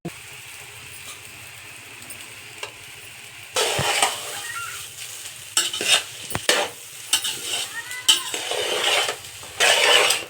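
Garam masala and chicken masala fry in a pan for egg rice, with soft background sizzle broken by bursts of louder crackling and scraping as a spatula stirs the spices.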